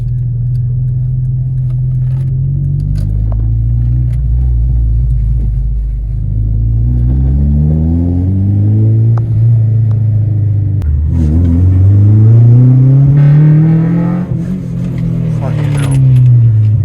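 A Honda Civic Type R EP3 engine revs up and down repeatedly, its pitch sweeping higher with a sharper, harder-edged tone on the upswings as VTEC engages, while people talk over it.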